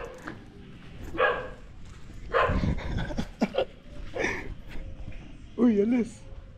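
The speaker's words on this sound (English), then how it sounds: "There's a dog." A dog barks in a few short bursts on a street on the way to Bali, mixed in with people talking nearby and other outdoor noise.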